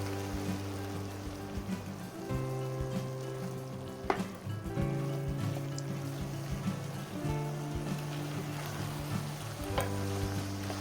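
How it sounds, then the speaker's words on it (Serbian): Flour and crushed hot chili pepper fry at medium heat in a pan with peas and chicken fillet, giving a steady, even sizzle over a low tonal background, with one sharp clink partway through. "Nekih 2-3 minuta da čujete da počne da se prži."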